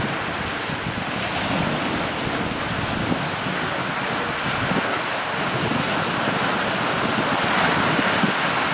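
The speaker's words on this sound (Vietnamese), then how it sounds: "Quá quá sóng luôn rồi." Steady roaring sea surf mixed with gusting wind buffeting the microphone as a fishing boat heads out into rough open water, a dense and continuous wash with no voices.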